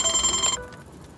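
A telephone rings with a bright, electronic tone that runs steadily and close up, then cuts off abruptly, leaving quiet room tone afterward.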